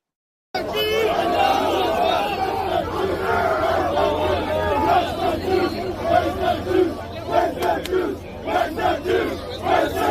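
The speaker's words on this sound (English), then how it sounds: "So you literally had a crowd of protesters, and they were yelling" A large crowd of protesters yells and chants loudly, with overlapping shouting voices surging in waves, heard from a played recording.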